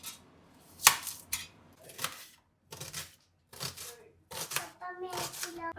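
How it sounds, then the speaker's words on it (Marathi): Onion being chopped finely with a knife, bursts of crisp cutting scrapes and taps separated by short pauses, close and fairly clear, with a voice briefly audible near the end. "तर आपल्याला फोडणीसाठी कांदा बारीक चिरून घ्यायचा आहे"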